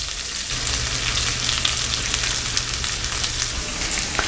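Sliced onions fry in hot oil for an eggplant thokku, giving a steady close sizzle with occasional stirring scrapes.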